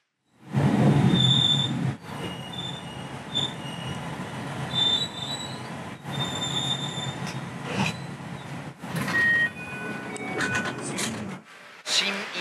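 A Special Rapid commuter train bound for Himeji runs from Maibara toward Osaka, with a loud steady rumble, clattering wheels and high squealing tones from the rails, heard from inside the carriage with brief quieter gaps.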